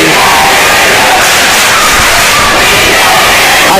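A volleyball home crowd chants and cheers in a gym during a varsity match, a loud, dense roar of many voices that fills the space without pause.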